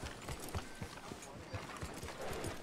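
Horse hooves clip-clop in Red Dead Redemption 2, a steady rhythmic trot of soft thuds under ongoing talk.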